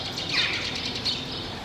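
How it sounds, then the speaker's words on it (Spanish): A Sardinian warbler, a small Mediterranean songbird, delivers a brief bright chirping phrase, then another short note, over a constant outdoor hiss. "Curruca cabecinegra."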